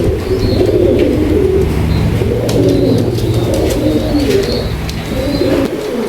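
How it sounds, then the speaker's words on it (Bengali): A pair of yellow-eyed Nepali pigeons cooing repeatedly in soft low rolling phrases, close and fairly loud, with faint chirps from other birds in the background. "ভিউয়ার্স একটা পেয়ার আছে ডাবলা কবুতর"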